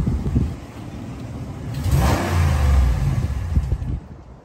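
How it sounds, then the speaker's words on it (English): A 2016 Dodge Ram Bighorn with a Hemi engine revs up close, the engine note rising and holding for a couple of seconds before dropping back, with a faint ticking not clearly separable from the engine noise. "I've been having this annoying ticking sound on my Dodge truck for maybe about three, four months now."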